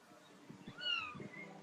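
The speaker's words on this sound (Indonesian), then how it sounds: "Suara kucing siapa itu?" Indoors, a cat gives a single faint, drawn-out meow that rises and falls, with soft background noise and no talking.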